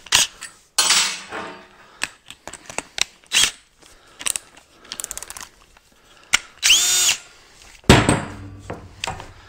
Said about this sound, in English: The big question is, will my drill be up to the task?